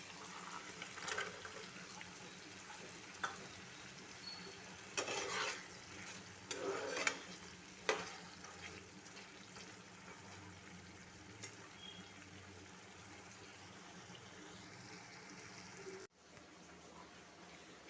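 Spice paste for a Bengali banana-flower ghonto being stir-fried in a pan, with faint, irregular scraping strokes and a soft sizzle in a quiet kitchen, with no voices.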